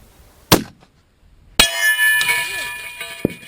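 A rifle bullet strikes a swinging steel target at long range, beyond 1,100 yards, and a sharp metallic clang rings out. A second clanging impact follows about a second later, and people talk over the ringing afterward.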